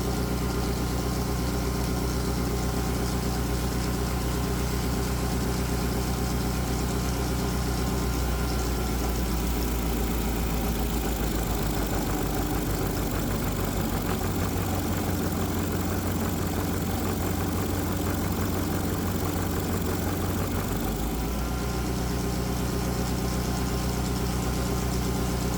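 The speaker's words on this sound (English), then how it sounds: "Let's put a load on the engine and see what happens." A Predator 212 small engine fitted with electronic fuel injection runs continuously under load, its steady drone dipping and bogging in the middle before recovering, loud and close with no talking.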